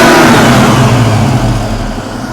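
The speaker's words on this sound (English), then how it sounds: "let's see what happens with the throttle snap." A Ford Foxbody Mustang engine, idle speed raised to about 900, snaps up in a loud close throttle rev, then the revs slowly fall back toward idle.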